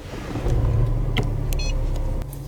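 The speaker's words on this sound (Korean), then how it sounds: "실내에서 시동 거는 소리 한번 들어보겠습니다." From inside the cabin, a Mercedes GLA 220 engine starts and settles into a low, steady rumble, with a short electronic chime partway through.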